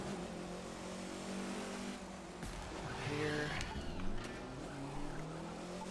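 A rally car engine in the racing game The Crew 2 hums steadily as the car drives a point-to-point race, with a brief tire skid and a swell of revving partway through, at moderate level.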